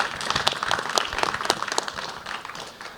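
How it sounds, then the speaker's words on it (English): An audience applauds panelists at a blockchain anti-money-laundering event, a burst of lively clapping with distinct sharp claps up front that gradually thins and softens toward the end. "So a big round of applause for our panelists,"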